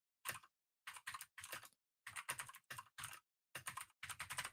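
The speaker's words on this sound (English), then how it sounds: "I got my clickety clack keyboard. I like the sound of that." Bursts of rapid clicky keystrokes from a mechanical keyboard, close and crisp, with short pauses between flurries.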